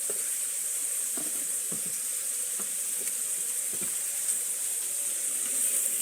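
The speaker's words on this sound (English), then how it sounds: "we'll put the steak down in the pan and let it start to sear" Steak searing in a hot pan gives a steady, even sizzling hiss that runs the whole time, with a few soft clinks and no voices.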